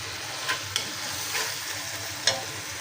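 Spice masala for eggs sizzles steadily in a pan, a continuous close hiss broken by a few sharp scrapes of the stirring spoon, with no voices.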